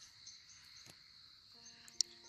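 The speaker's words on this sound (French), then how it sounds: "Et ça c'est un grillon domestique." A house cricket in the countryside chirps with a faint, steady, high trill, alone in a quiet outdoor setting, with a small click near the end.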